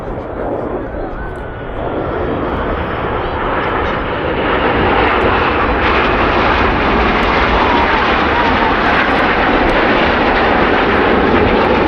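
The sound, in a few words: Red Arrows display jets rolling in corkscrew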